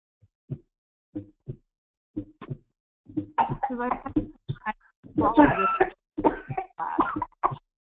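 A person coughs several times in short, sharp bursts during a practical nursing class demonstration, the coughs scattered at first and then mixed with nearby talking.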